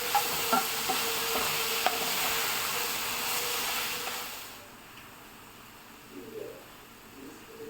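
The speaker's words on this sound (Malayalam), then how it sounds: "ശർക്കരയൊക്കെ ഒന്ന് ഉരുകി വരുന്നത് വരെ നന്നായിട്ടൊന്ന് വഴറ്റണം." Raw banana cooks in ghee with jaggery, stirred in a pan until the jaggery melts, giving a steady soft sizzle and scraping that fades after about four seconds, leaving quieter background sounds.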